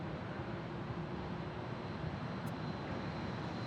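Boeing 757 airliner at Phoenix Sky Harbor airport, a continuous broad engine roar with a steady whine, loud and sustained throughout without talk.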